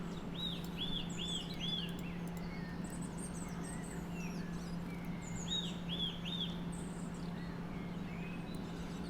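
Small birds chirp and trill in repeated quick bursts of bright, high calls, moderately close over a soft steady background hum, playing as cat TV.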